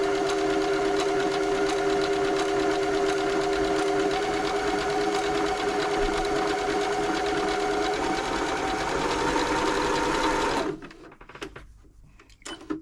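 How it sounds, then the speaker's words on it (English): Janome Jem Platinum 720 sewing machine running a stretch stitch after servicing, a loud, close, steady mechanical whirr with rapid rhythmic needle clatter that runs for about ten seconds, then stops abruptly into near quiet. "So the machine goes back and forwards, creating the stretch stitch."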